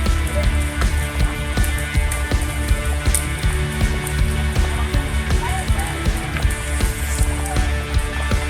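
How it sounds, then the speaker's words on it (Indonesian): Light rain patters steadily on surfaces during a mountain hike, with scattered drips and taps continuing throughout at a moderate level. "Gerimis. Masih hujan."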